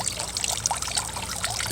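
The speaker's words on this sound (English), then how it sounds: "Water just goes in from there out to here, and then just flows right out." Water trickles and splashes steadily through the outlet hole of a garden fish pond, a close, continuous bubbling dribble with no voices.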